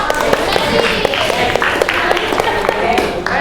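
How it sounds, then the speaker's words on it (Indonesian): Junior high school students in a Bogor classroom clap together, a brisk patter of distinct hand claps mixed with chatter and voices throughout. "Beri tepuk tangan untuk bisa."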